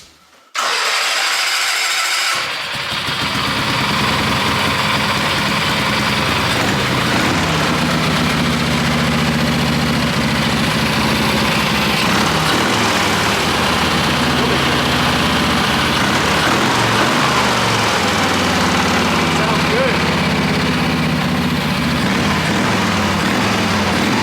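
A small opposed-twin engine on a Wheel Horse lawn tractor cranks over and catches, then settles into a loud, steady idle with a throbbing low rumble, close by and without talk.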